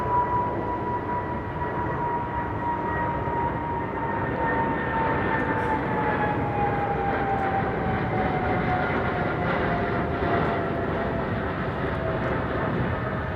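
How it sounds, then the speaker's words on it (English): Jet aircraft engines roar continuously at London Heathrow Airport. A loud, steady broadband rumble holds a falling whine tone as the plane passes close by, with no talk over it. "Oh, listen to these engines"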